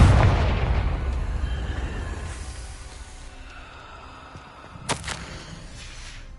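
Confringo fire spell blast in Hogwarts Legacy: a loud, booming burst at the start that fades into a rumbling tail, followed by a sharp crack partway through, with no voices.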